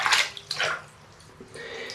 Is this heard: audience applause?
no